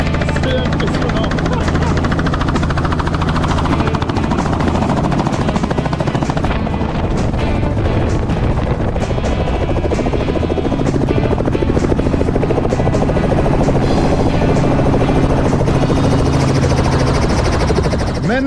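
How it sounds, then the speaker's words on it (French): A helicopter hovering and setting down close by, its loud continuous rotor and turbine drone filling the whole span, with people talking under the noise. "on a vu la précision de Stéphane à se poser avec un hélicoptère"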